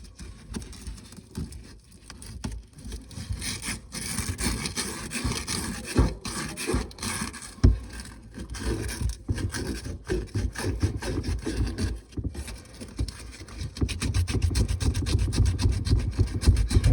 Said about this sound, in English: I'm gonna sand it down now.